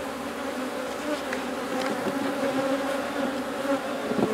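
Honey bees buzz steadily around a mating nuc at an apiary, a dense, continuous hum of many insects close by with no talking.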